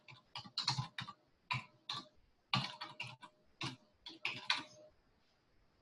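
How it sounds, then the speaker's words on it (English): Quick bursts of typing on a computer keyboard, several clustered keystroke runs separated by short pauses, close and crisp in a quiet room. "You would just start typing in a domain."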